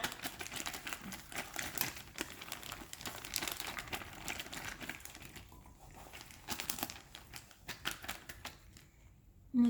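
A sealed zip bag of water and calcium chloride is shaken in a school lab, giving continuous crinkly rustling and sloshing in irregular bursts that fade out near the end.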